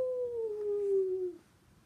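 A voice imitates a dog's long, sliding howl, one sustained mournful note that falls gradually in pitch and fades out, close and alone.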